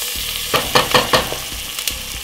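Butter goes into olive oil warming in a frying pan, giving a steady sizzle with several louder crackling bursts and soft stirring clatter, close up, with no one talking.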